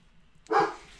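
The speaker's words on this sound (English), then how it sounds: "I think my dogs are going insane here" A burst of dog barking erupts after a quiet stretch, several dogs yapping together fairly close and loud, then trailing off, with no talk over it.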